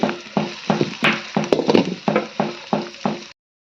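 Cauliflower frying with garam masala in a pan for gobi fried rice, a ladle stirring in rhythmic scrapes over a steady close sizzle.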